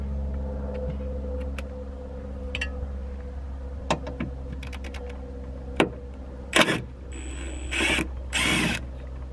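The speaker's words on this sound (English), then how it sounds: "now we got to remove these OE bolts." A power tool backs out the factory OE bolts on a Jeep JLU tailgate, with a few short, sharp whirring bursts over a steady low hum and scattered clicks, close and without talk.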